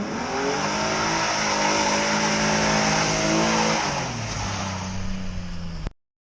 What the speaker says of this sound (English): I decided to start drifting the car